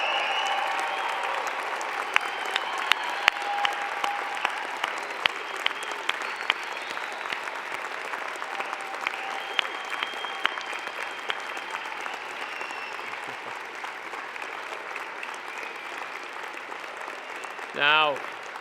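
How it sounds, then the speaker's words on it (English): A large convocation audience applauds the Fall 2019 graduating class at Simon Fraser University, with sustained, dense clapping filling a hall at steady loudness for well over fifteen seconds before a voice speaks near the end. "join me in applauding the amazing graduating class of"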